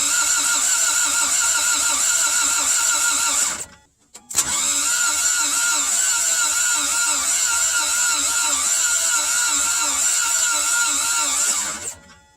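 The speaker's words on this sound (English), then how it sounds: "at least partially close the hood and crank" A Toyota MR2 engine cranks over with test spark plugs fitted, a steady loud churning drone that runs for several seconds, cuts out briefly, then resumes for a longer stretch before stopping.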